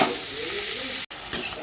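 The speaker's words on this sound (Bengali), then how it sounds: "দিয়ে এবার আমি ডাটা আর আলুগুলো এর মধ্যে দিয়ে দেব।" Data stems and potatoes sizzle steadily in a hot pan, a dense bright frying hiss broken by a brief pause as the food is stirred.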